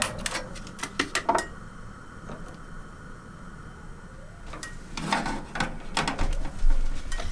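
A gas stove flame being lit in an off-grid cabin kitchen: a few sharp close clicks from the igniter, then a soft whoosh and low hiss, followed by more scattered clicks.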